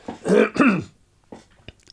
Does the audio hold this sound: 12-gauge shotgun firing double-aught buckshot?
no